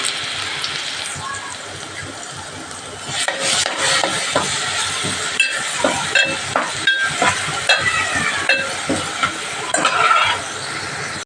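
Coarsely ground chilli fries in oil with a continuous sizzle, and stirring gets busier partway through. Sharp scrapes and clinks of the pan come through near the microphone.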